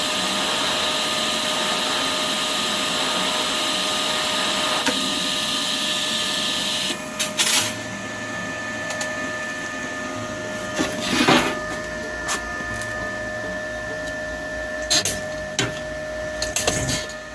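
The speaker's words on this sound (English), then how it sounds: "You just hit the button and it will start to arc for you right away." An ARCCAPTAIN TIG Welder 200 arcs during a weld, a steady high-pitched buzzing hum for about seven seconds, then a quieter electrical drone with intermittent crackles and clicks.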